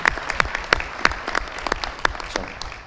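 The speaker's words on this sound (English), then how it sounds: "So if we could get a round of applause for them as well." Audience applause at a town inauguration ceremony, a steady patter of clapping hands with a few sharp, prominent claps standing out, moderately loud and continuous for a few seconds.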